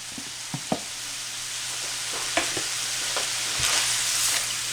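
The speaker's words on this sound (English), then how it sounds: "And we're going to stir this in." Ham, bacon and mushrooms sizzle steadily in a frying pan for a smoked ham and bacon hash, with several distinct scrapes and taps of a utensil stirring them close up.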